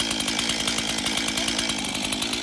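A loud chainsaw runs continuously close up, its engine buzzing steadily as it cuts notches in timber.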